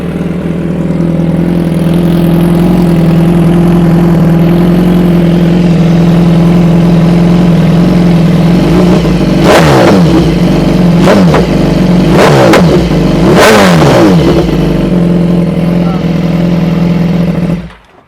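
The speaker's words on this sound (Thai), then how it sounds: "เดี๋ยวมาฟัง เสียงรถกันว่าเป็นยังไงบ้างกับท่อ AR" A 2016 BMW S1000RR superbike with an AR exhaust and de-restricted throttle idles with a steady low rumble, then snaps through several sharp, loud revs near the end, close to the microphone.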